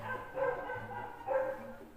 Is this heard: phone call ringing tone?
no